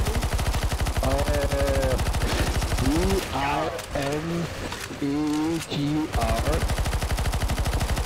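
Rapid automatic gunfire rattles without pause through a CS:GO Zombie Escape round, loud and steady, while several people talk over it.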